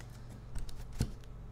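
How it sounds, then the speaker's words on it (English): Playing cards being shuffled during a solo game of the 1995 Warhammer Quest board game, a few soft, crisp flicks and taps, quiet and close. "Would you like me to stop shuffling cards"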